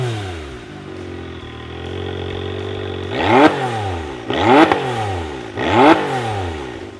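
A 2024 Can-Am Maverick R engine breathing through an EVP exhaust idles with a low rumble, then revs sharply three times in quick succession, each rise and fall loud and close, with no talk.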